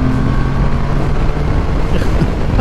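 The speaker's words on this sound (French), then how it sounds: "1330 cm3, 3 cylindres, une rondeur incroyable. Oui, ça chante comme une moto." A Can-Am Spyder F3-S three-wheeled motorcycle with a 1330 cc three-cylinder engine runs loud and close, a steady smooth engine drone that holds throughout with a slight rise near the end.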